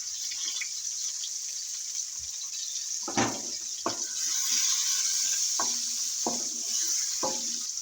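Soft sizzling of onions frying in ghee in a pan with a hiss throughout, punctuated by several clinks and scrapes of stirring.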